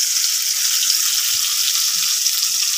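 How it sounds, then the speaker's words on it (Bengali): Fish fries in a pan with a loud, steady, continuous sizzle, heard up close and alone. "এখানে মাছ ভাজা হচ্ছে"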